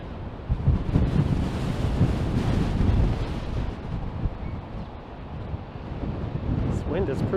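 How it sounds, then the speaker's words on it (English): Strong wind buffets the microphone in a steady, heavy rumble while riding a Segway Ninebot Max e-scooter through downtown Toronto. The gusts swell and ease slightly with no break. "This wind has proven to be something else."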